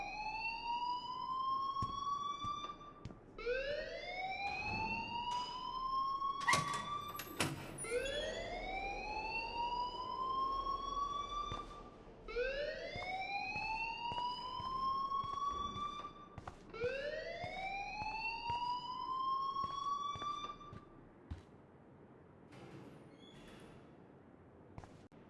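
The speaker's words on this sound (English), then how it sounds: "please turn off that alarm since that's your job" Fire alarm in the Life is Strange video game, a steady repeating series of rising electronic whoops that cycles continuously for a long stretch at moderate level.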